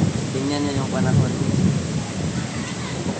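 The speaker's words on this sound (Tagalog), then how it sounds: "Lakas ng ulan." Heavy rain pours down in a thunderstorm during a motorcycle trip, a dense close roar of rainfall with a low rumble of thunder, and a voice talks briefly over it.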